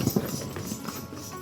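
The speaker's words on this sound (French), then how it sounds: "J'avais oublié de dire qu'ici il y a les chevaux aussi pour se déplacer." Horses used for transport on a small island, hooves clip-clopping at a trot, a fairly close, irregular run of hoof strikes over steady outdoor background noise.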